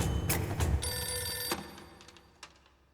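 A telephone bell rings in a tense scene from a South Indian action film dubbed into Hindi, its loud, dense ringing running through the first second and a half before fading out.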